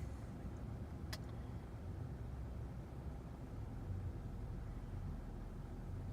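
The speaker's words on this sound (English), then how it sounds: "drives on the highway, it's dead straight" A 2015 Kia Optima EX cruising on the highway, a steady low rumble of road and tyre noise heard from inside the cabin, continuous and even, with a single brief click near the start.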